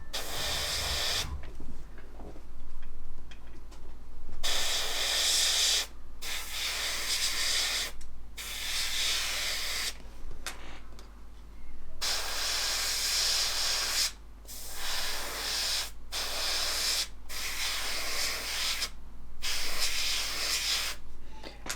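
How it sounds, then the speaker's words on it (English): Airbrush driven by a compressor gently sprays a muck mix onto a model tyre, giving soft repeated bursts of hiss separated by short pauses over a faint steady hum, with no talking. "I'm just going to very, very gently spray this muck mix"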